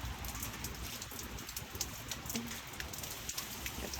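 Steady rain falls on a garden, a dense even patter of drops with occasional sharper splashes close by, and no voices.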